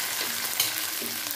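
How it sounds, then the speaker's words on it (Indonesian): Grated coconut mixed with spices sizzles and crackles in a hot frying pan while being stirred, a close, steady frying hiss with soft scraping, no talking. "Nah, ini kita goreng dan aduk-aduk kelapa parut ini"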